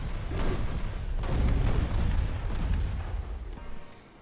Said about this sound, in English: 7-inch hits from Glasgow.